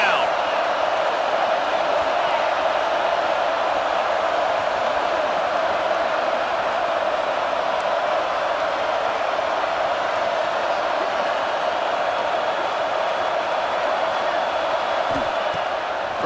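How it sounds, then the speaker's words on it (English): A stadium crowd roars steadily for the defense on third down in a college football video game, Penn State against USC, a dense continuous wash of noise under a play-by-play commentator's voice. "Decibels rising as the crowd gets behind this defense on third down."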